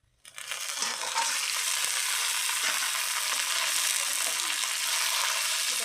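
Chicken pieces dropped into a pan with browned onion burst into a loud, steady hiss that swells within the first second and holds dense and continuous, with no voices.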